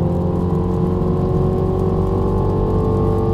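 A 2016 MINI Cooper Clubman S engine hums at a steady, loud idle-like rev, a constant droning tone with no pauses.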